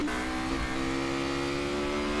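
A Formula Renault 3.5 race car accelerates out of a corner at Sepang, its engine a steady, loud, high-pitched drone that holds constant throughout.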